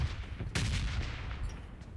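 Sudden burst of explosive booms from a red zone bombardment in the PUBG Mobile battle royale game, hitting abruptly and rumbling on with scattered blasts for about a second and a half.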